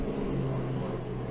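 An airplane passes overhead as a broad, steady low roar that fills the short stretch without voices.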